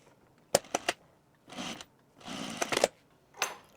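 A sewing machine stitches a fleece jacket side seam in short bursts, starting and stopping several times with brief pauses, close and fairly quiet with no talking.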